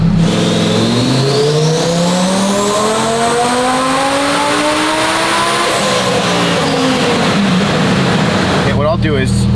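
Close, loud tuned, boosted car engine revving up and holding high, pitch climbing then easing off, ending with a sharp burst of rushing wastegate noise.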